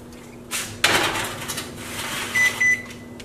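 A microwave door clunks open and shut, followed by a couple of short electronic beeps over a faint hum.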